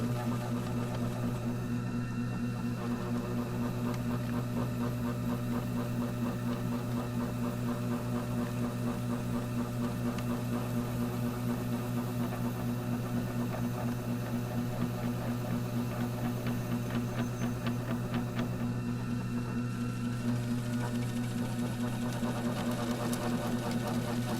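A pottery wheel spins at full speed during trimming with a Giffin Grip holding the pot, a steady low motor hum with a fine, constant buzzing rattle that never changes across the whole stretch.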